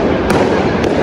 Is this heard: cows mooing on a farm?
no